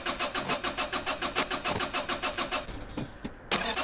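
A car engine in the video game Drive Beyond Horizons cranks with a fast, even run of loud starter pulses, pauses briefly, then gives a few more sharp turns as it tries to catch.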